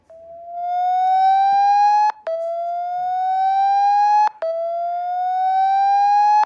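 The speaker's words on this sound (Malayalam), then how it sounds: "വലിയ ശബ്ദത്തിലാണ് ഇതൊരു ഒരു സൈറൺ മുഴങ്ങുന്നത് കേൾക്കാൻ സാധിക്കും" Rising siren tone played through a mobile phone speaker by its speaker-cleaning setting: three loud, clean sweeps climbing in pitch, each about two seconds, separated by brief breaks, with no other sound.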